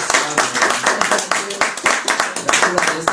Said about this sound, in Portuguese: Uma salva de palmas para a palavra do Senhor.